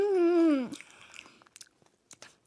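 Crunchy, salty chicharron being chewed, after a sustained higher-pitched vocal sound that falls away, followed by a few soft, close crunches and bites, with no speech.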